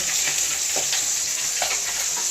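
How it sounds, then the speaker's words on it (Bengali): Fish frying in a pan gives a steady, loud hissing sizzle with occasional soft spatters and stirring clicks, close by and without talking. "এই যে মাছ ভাজা হচ্ছে"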